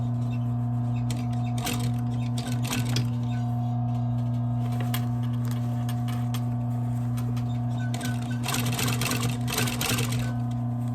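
A sewing machine stitches a pocket into a replacement Chanel bag lining with a steady mechanical hum and bursts of rapid needle clatter, close up and running alone.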